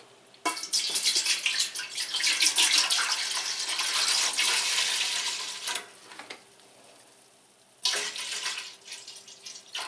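Liquid pours in a steady, splashing stream into a stock pot for turkey brine, stops briefly, then resumes in a second close, loud pour.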